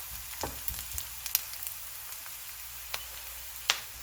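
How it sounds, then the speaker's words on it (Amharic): Chopped yellow and red onions frying in warm oil for chicken tibs, giving a soft, steady sizzle with a few sharp pops and crackles, quiet and close, with no voices. "ዘይቱ ትንሽ ሞቅ እንዳለልኝ የከተፍኩትን ቢጫ ሽንኩርት፣ የቀይ ሽንኩርት ግማሹን ጨምራለሁ።"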